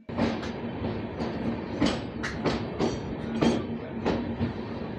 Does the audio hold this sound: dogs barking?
no